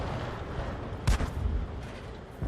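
Artillery gun firing in World of Tanks as a single sharp boom at mid-clip, standing out briefly from a steady low rumble of battlefield noise.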